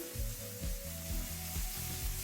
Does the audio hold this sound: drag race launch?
no